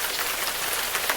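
Steady rain effect from video editing software, a dense even patter of drops hissing across the whole moment with no voices.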